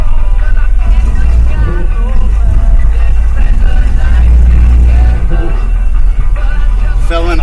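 An old van truck engine runs steadily after long sitting with the choke kicked off, a loud, rough low rumble holding through the whole stretch with someone talking over it.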